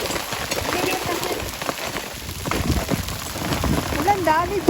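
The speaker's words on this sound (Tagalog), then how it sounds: "Ulan, dami din." Heavy rain pours at a trailhead picnic spot, a dense, continuous hiss of drops on surfaces, with people talking over it.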